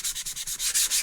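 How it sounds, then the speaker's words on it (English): A sanding sponge is rubbed lightly over stencilled polka-dot paint on a door sign. It makes a rapid, steady run of close, dry scratchy strokes, about nine in a second, with no voices. "Now we are going to take a sanding sponge and just lightly"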